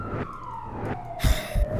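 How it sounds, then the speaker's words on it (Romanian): An ambulance siren passes outside, a single wailing tone that slides steadily downward as it goes by, heard from indoors with a couple of dull thumps nearby. "Vezi că trece ambulanță sau ceva la mine."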